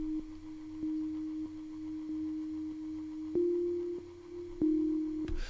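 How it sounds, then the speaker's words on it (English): A soft, bell-like synth tone from the Pigments plugin repeats on a single steady pitch, each note struck with a short attack and ringing on, fairly quiet and alone. "So this particular bell is from a plugin called Pigments."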